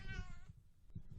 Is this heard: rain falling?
no